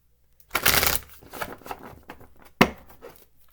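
Tarot cards being shuffled nearby, a loud riffle followed by softer rustling and a second quick flurry of shuffling.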